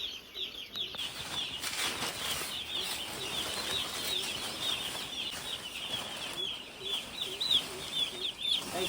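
Chickens in a poultry shed clucking and squawking continuously, with bursts of wing flapping and a busy, dense flock murmur throughout, no talk.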